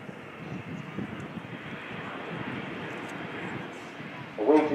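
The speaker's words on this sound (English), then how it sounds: "Now how about that for a slow flyby? It is an extraordinary sight." An Airbus A380 makes a slow flyby at the Farnborough airshow, a steady broad jet roar held at an even level throughout, with a brief louder burst near the end.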